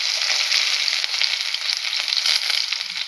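Chopped onions and green chillies frying in hot oil after mustard seeds, a dense, steady close sizzle that crackles continuously without pause or talk.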